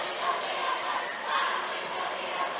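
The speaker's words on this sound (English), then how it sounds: "Senator cheer block starting to let the Eastern fans have it" A student cheer block chanting and taunting opposing fans at a high school basketball game, heard as a loud, sustained crowd roar of massed voices with rhythmic swells, with no break through the whole span.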